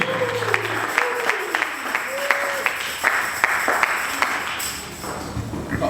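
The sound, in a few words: congregation applauding and cheering at church service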